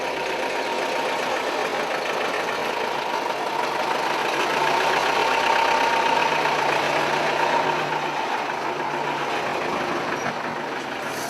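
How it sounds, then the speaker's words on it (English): A bus engine runs steadily with a close, continuous rumbling drone and broadband hum while on the road to the airport during a trek trip, holding an even level with a slight swell midway and no talking. "We're on the bus now"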